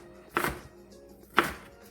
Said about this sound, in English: we're going to start with chopping some onion